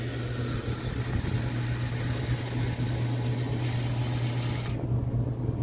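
A vending machine's vend motor runs with a steady low mechanical hum and whir, then cuts off abruptly near the end, leaving near silence.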